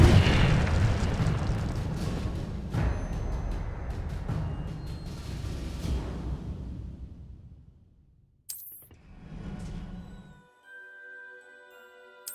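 Incendio fire spell cast in Hogwarts Legacy: a loud fiery blast with a long rumbling roar that fades over about eight seconds, followed by a short whoosh and a ringing magical shimmer.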